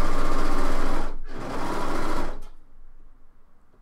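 A sewing machine stitches fabric for a top in a loud, fast, steady whir nearby. It stops briefly, runs again in a second burst, then stops and leaves quiet.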